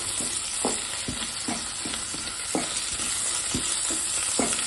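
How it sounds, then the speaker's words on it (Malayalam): Tender coconut sautéed in a pan gives a steady sizzle, punctuated by sharp scrapes of a spoon stirring at irregular intervals, close and fairly loud with no voices. "വെള്ളയ്ക്ക നന്നായി വഴറ്റിയെടുക്കുക"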